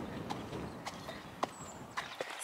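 Hooves of a small racehorse-type pony at a training gallops, with a few separate clip-clop impacts at an uneven walking pace, moderately close, over a quiet outdoor background.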